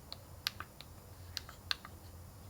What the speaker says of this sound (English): But the keys, they feel good. They're very clicky.